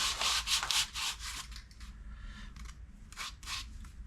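80-grit sandpaper rubs back and forth across a metal Sebring-style rear valance in loud, rasping strokes, fast at first and then slower, with no voices.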